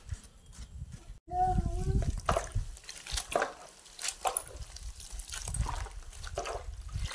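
Makhana bhaji leafy greens being washed by hand in water, splashing, trickling and dribbling close by with irregular bursts of movement, and a voice briefly audible near the start.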